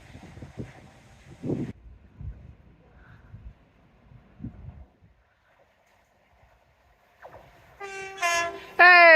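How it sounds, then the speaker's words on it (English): A train rumbles past along a seawall in Teignmouth for several seconds, then its horn sounds loudly in a couple of bright, blaring toots, close by. "Very happy train. Lovely. He was giving me a toot"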